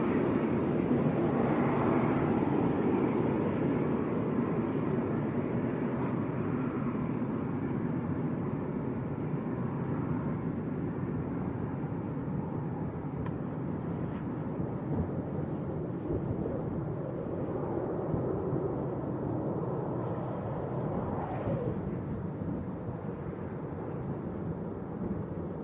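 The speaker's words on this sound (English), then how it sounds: "They do make quite an impressive sound, them vortices when they come past us" Wake vortices from a passing Jet2 airliner at Leeds Bradford Airport rush and rumble in a long, steady roar, with swirling, tearing whooshes that drift and swell over roughly twenty-five seconds.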